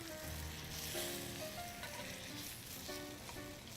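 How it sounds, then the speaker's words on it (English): Pork chops sizzle and fry in a hot skillet as they brown, a steady close crackle of spitting fat with faint background hum, no talk. "Let them brown nicely on that first side."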